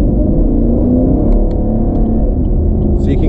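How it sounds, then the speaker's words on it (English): A Camaro's V8 engine rumbles steadily and loudly from inside the car, a deep continuous drone with slight shifts in pitch and no talking. "the nice V8 in this car"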